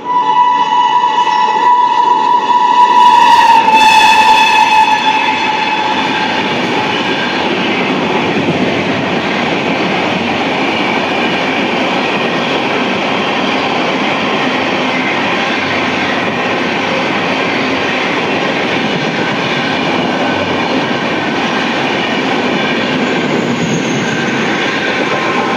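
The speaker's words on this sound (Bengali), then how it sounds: "হামসাফার পুরো উড়িয়ে দিয়ে চলে গেল।" A Humsafar Express train thunders past at speed on an Indian main line: a loud horn blares at the start, then a continuous heavy roar of rushing wheels and carriages fills the rest, close and with no talk.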